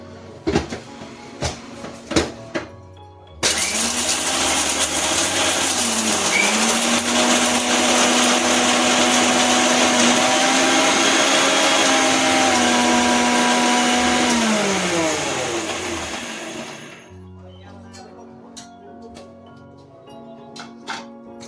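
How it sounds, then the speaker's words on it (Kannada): A mixer grinder whirs loudly and steadily for about twelve seconds, its motor pitch shifting slightly, with brief clicks and knocks before and after. "ಮಿಕ್ಸಿಗೆ ಹಾಕ್ತಾ ಇದ್ದೇನೆ"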